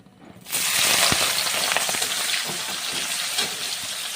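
Onions hit hot oil for chicken biryani, bursting into a loud sudden sizzle after a brief quiet start, then a steady close frying hiss with light stirring clicks.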